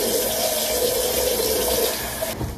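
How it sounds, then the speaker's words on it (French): Water runs steadily from a tap into a sink while soap is rinsed, a close, continuous splashing stream that softens near the end. "maintenant du coup je vais rincer mon savon."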